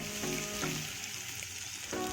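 Sugar sizzling and frying as it melts in hot oil in a pan, a steady close crackling hiss with brief stirring scrapes, no voices.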